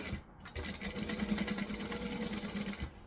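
Sewing machine stitching a seam then back stitching, a rapid steady mechanical chatter up close, about two seconds of continuous running after a brief pause, no talking.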